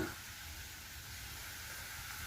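Chowmein frying in a generous amount of oil in a pan, a steady, even sizzle that hisses on quietly and continuously without pause or voices.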